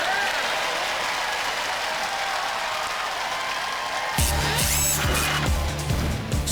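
An audience applauds the roboteers at a Robot Wars US tag team bout, a steady wash of clapping from a crowd that runs on before loud music bursts in over it for the last couple of seconds.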